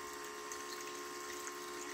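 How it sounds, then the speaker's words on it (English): A bilge pump emptying water from the bilge of an Argo 8x8 amphibious vehicle, a steady faint hiss of flowing water with a constant pump hum, no speech. "so I think this will be certainly good for emptying the bilge"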